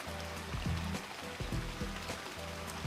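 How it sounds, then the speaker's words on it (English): A rain sound effect from the Scratch sound library plays as a steady wash of patter, with soft, irregular drops and splashes running through the whole stretch and no voices over it. "rain sound in the Scratch sound library"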